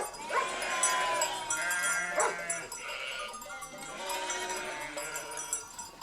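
Goats bleating at a farm in Greece near Athens, several animals calling in overlapping, wavering cries over a busy farmyard background, close and fairly loud throughout.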